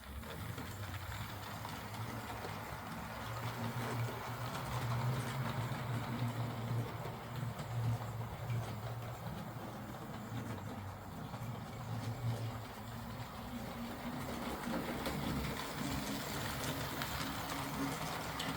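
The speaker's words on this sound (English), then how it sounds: "Here's the other revised motor fitted into the Flying Scotsman." A replacement Hornby X04 motor runs inside a Flying Scotsman model locomotive, giving a steady, low mechanical hum with a faint whirring rattle. It stays fairly constant and close throughout.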